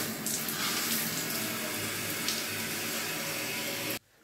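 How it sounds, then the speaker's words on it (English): Hot water rushes steadily through an upturned RPG-7 launcher tube during rinsing, a loud, even splashing flow that runs unbroken for about four seconds and then stops abruptly. "then you turn it upside down, start hot water and just rinse it through"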